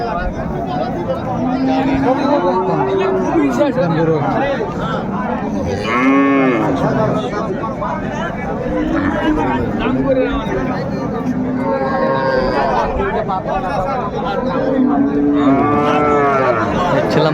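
Cows and calves at a busy village cattle market low out in loud, drawn-out moos, several calls one after another, over constant crowd chatter and nearby talk.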